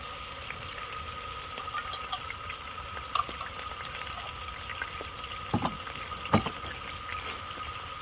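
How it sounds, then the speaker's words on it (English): Water poured out of a can of chicken at a campsite makes faint, intermittent splashes and gurgles, with a few louder spills near the end over quiet outdoor background. "What I'm doing off camera is just pouring the water out."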